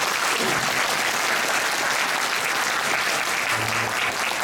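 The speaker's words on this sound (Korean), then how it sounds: "박수 한번 주세요." A crowd at a high school debate final applauds in a steady, dense wash of clapping that holds for several seconds without pause.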